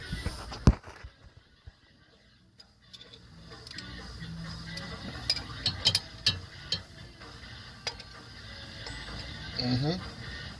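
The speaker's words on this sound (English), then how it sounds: "So I got me a breaker bar onto one of them." A breaker bar works on flywheel bolts, giving scattered metallic clicks, ratcheting ticks and knocks, mostly faint and close, with a brief creaking strain near the end.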